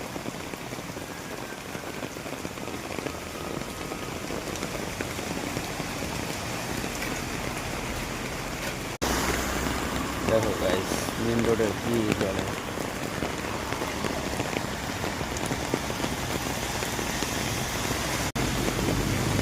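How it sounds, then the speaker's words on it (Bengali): Heavy rain pours onto a main road at night as a steady, dense hiss that grows louder partway through, with someone talking over it. "দেখো ভাবো কত বৃষ্টি পড়ছে"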